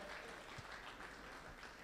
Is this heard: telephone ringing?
no